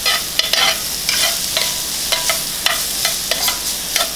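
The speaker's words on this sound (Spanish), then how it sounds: "Echamos la cebolla, ¿ok? Vamos a darle un momentito para que la cebolla suelte su caramelización" Onion frying in a pan for a sweet potato gnocchi and sausage bolognese, a steady sizzle broken by regular scraping stirs about every half second, close and moderately loud with no voices.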